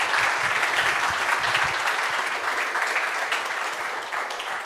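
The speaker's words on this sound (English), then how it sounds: "Applause." An audience at a reverse-engineering conference talk breaks into loud, dense clapping that holds steady for several seconds before easing slightly.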